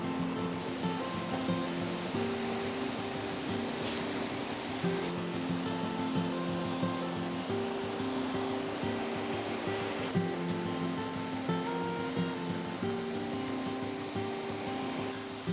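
Shiraito Falls near Karuizawa pours a steady, dense rush of water throughout, a constant close roar with melodic background music layered over it.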